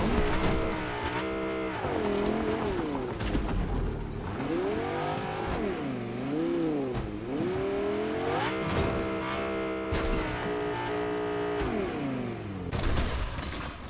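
Fortnite car engine drones and revs throughout, pitch rising and falling as the vehicle accelerates and eases off, loud and continuous with occasional sharp clicks and thumps of in-game action.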